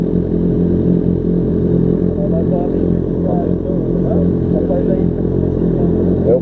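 A Yamaha FZ6 motorcycle rides through city streets, its engine giving a loud, continuous rumbling drone close by, with a rider's voice talking over it.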